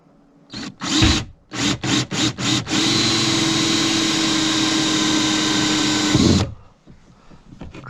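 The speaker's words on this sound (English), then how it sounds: "drill the hole first, the 1-inch hole." A power drill bores a 1-inch hole in a plastic Old Town Sportsman 12 kayak hull while a Humminbird Helix 5 fish finder is being installed. Several short trigger bursts come first, then a long steady high whine, and it stops abruptly before the end.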